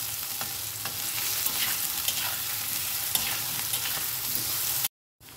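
Potatoes fry in oil for a red lentil masoor dal, a close steady sizzle with repeated spatula stirs and scrapes, cutting to abrupt silence just before the end.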